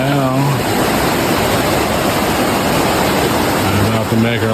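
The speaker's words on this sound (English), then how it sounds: "Beautiful river and walking along. Crossing it now." A river rushes steadily as someone wades across it outdoors, a loud, continuous broadband roar up close, with a voice briefly over it at the start and end.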